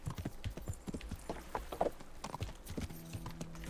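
A horse's hooves clip-clop at a steady walking rhythm in the Kingdom Come: Deliverance video game, close and moderately loud, with a faint neigh among the footfalls.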